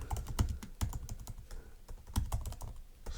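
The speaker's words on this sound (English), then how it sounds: "I'm having a hard time typing right now" Someone types on a computer keyboard, with quick irregular clacks in close bursts, fairly faint, with no talk.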